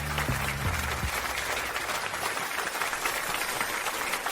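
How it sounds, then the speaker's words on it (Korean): Audience applause at a marriage proposal ceremony forms a steady wash of clapping throughout, with a few low musical tones sounding near the start. "따뜻한 박수"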